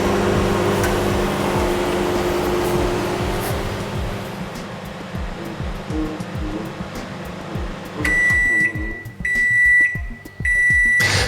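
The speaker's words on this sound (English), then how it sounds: "Now on a 1000-watt microwave, it's gonna take anywhere between 5 and 7 minutes." A 1000-watt microwave oven cooking a sweet potato hums steadily with a low drone, then stops and sounds several bright, evenly spaced completion beeps near the end.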